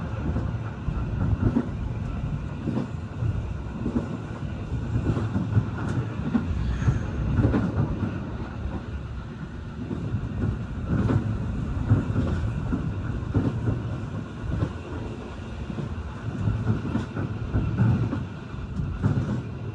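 An Argo Wilis executive-class passenger train in Java, Indonesia, rolls along the rails near Banjar station, giving a steady low rumble with faint rhythmic wheel clicks and no talking.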